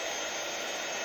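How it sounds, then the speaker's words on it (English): A heat gun blows steadily while melting embossing powder on a card, a loud, even, close-up whooshing roar of hot air that holds unchanged throughout, with no voices. "I'm going to blast this one off with my heat gun."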